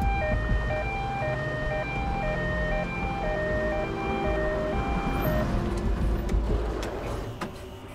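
An ambulance siren wails in a steady two-tone pattern, arriving at a crime scene, loud and continuous over a low rumble of traffic, with no talk.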